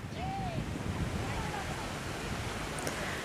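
Steady, loud wind buffeting across a beach, roaring into the microphone over distant surf, with no clear voices in the mix.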